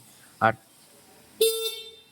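A short burst of noise, then a single loud, bright horn beep from a 2025 Hero Xoom 125 scooter lasting under a second, close by.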